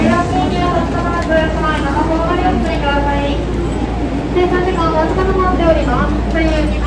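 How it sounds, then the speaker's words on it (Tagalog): A train ride gives a steady, loud rolling rumble with rattling carriage noise throughout, while people talk over it nearby. "Sakay na tayo ng train."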